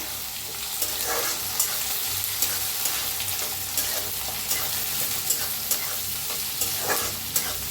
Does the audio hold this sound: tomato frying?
yes